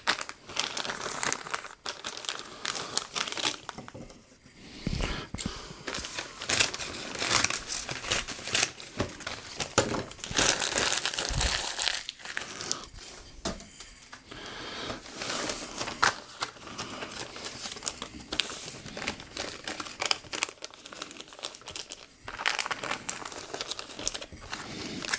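Christmas presents being unwrapped, with wrapping paper crinkling, crumpling and tearing almost nonstop for about 25 seconds. Bursts of rustling rise and fall close by, with no talking.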